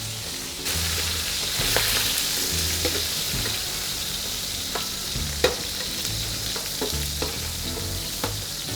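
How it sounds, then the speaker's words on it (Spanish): Spider crab and prawns sautéing in oil for a seafood caldereta, a continuous close sizzle broken by repeated clatters and scrapes of stirring and shifting shells in the pan. "Vamos a sofreír un poquito para que suelte el saborcito."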